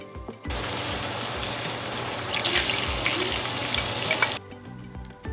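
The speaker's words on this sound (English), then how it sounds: "I'll stir fry this until this gizzard has absorbed this the spices in this sauce so far." Chicken gizzard stir-fries in a spicy sauce, giving a loud, steady sizzle and hiss that starts abruptly, holds for about four seconds, then cuts off.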